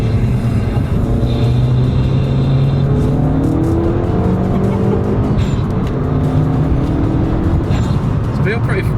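A remapped Mercedes E63 pulls hard under acceleration, its engine note rising in long sweeping steps with continuous road roar, loud and close throughout; people talk over it.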